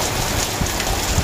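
A downpour of heavy rain in a village, a thick continuous rushing hiss with a few low thuds of drops, close and loud, with nobody talking.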